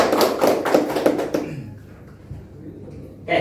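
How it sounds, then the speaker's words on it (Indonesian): Classroom applause during a micro-teaching lesson, a short burst of rapid hand claps from a small group that fades out after about a second and a half, leaving quiet room tone. "Kasih tepuk tangan."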